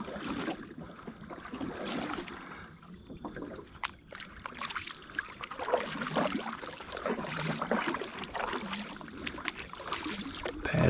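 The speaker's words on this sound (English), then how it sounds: "Paddling out in the dark." A boat is paddled through water in the dark during a hunting trip in Indiana, steady soft swishes and drips of strokes with faint splashes, no talking.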